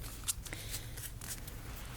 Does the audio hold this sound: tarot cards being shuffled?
yes